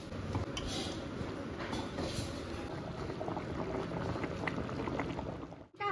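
Water boils in a cooking pot on the stove before eggs go in for an egg curry, a continuous close bubbling and gurgling roll, steady and alone, cut off abruptly at the end.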